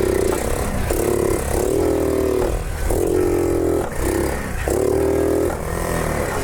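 A motorcycle engine, one of a batch of bikes imported from Japan, idles loud and close, its steady running broken by short rhythmic surges like throttle blips.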